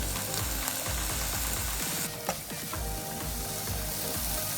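Minced pork frying in a pan with coconut cream gives a steady, fairly loud sizzle, with a repeated scraping and clattering from stirring running throughout; no one talks.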